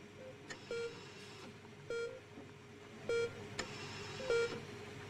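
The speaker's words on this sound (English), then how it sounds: "The rhythmic beeping of the heart monitor brings you slowly back to consciousness." Regular electronic beeps from a heart monitor in the video game Not For Broadcast, sounding about every 1.2 seconds, each short tonal bleep clear over a quiet hospital ambience.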